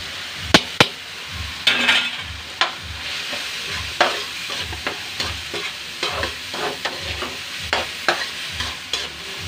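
Bagoong shrimp paste fries with eggplant in a pan, with steady sizzling under repeated rhythmic scrapes and clacks of a spatula stirring, close and fairly loud.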